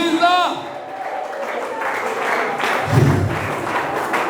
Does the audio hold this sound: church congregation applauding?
yes